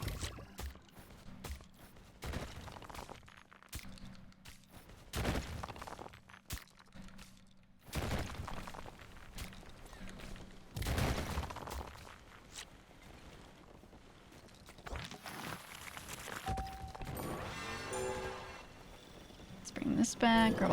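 Missiles fire repeatedly in the video game Dome Keeper, a string of sharp bursts and crackling impacts spread irregularly across the stretch with a person talking over them.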